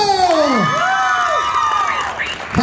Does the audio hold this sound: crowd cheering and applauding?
yes